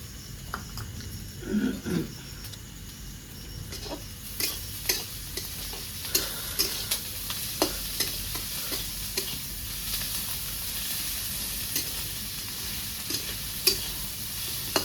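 Ginger garlic paste and green chilies fry in a pan with a soft continuous sizzle, punctuated by frequent sharp scrapes and clicks of stirring, close and fairly quiet with no talk.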